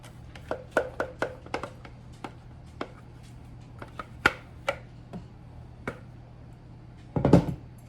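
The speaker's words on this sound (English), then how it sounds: "desperately trying to scrape all of this out" Scraping brownie batter made with black beans and cocoa out of a container, heard as a string of sharp, close utensil knocks and scrapes in an uneven rhythm, ending in a louder, longer scrape.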